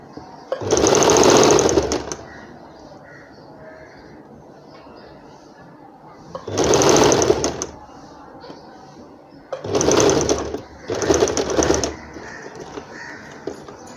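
Sewing machine stitching the flared skirt panel of an umbrella frock, running in four loud bursts of steady rapid stitching separated by quiet pauses, with faint talk in the gaps.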